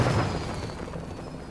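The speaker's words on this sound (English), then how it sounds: "We're launching the firework at this time." A firework launches in Fortnite at Lazy Lake, a broad, rushing burst that starts loud and slowly fades into a steady wash of noise with no talking.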